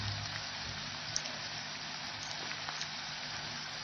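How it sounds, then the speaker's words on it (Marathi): Chana dal and turmeric sautéing in a pan give off a steady, soft sizzle with faint crackles and a few small pops throughout, with no talking. "हरभरा डाळ टाकल्यावर पण थोडं परतून घ्यायचं छान."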